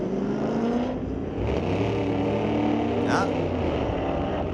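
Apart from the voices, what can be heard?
drag race between a 1972 Nova and a Corvette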